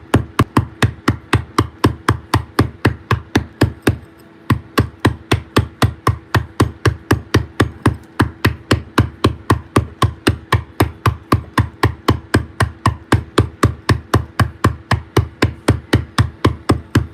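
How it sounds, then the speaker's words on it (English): Steady, rapid hammer blows strike a sharp point chisel cutting into stone, dozens of evenly spaced metallic taps close and loud, with one brief pause near the start. "it's the sharp point chisel, and we're going to move some material"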